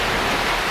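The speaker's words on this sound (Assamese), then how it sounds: "এই বৰষুণ দি আছে" Rain falls steadily in a dense, even hiss, loud and close, with no speech and no breaks.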